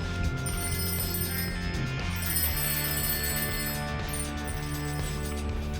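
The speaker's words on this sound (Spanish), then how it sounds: "se trata nada más y nada menos que de un timbre" Lever-operated bell on a classic BH Running Bull mountain bike, ringing continuously in a loud, close metallic trill like an old telephone bell, sustained for several seconds.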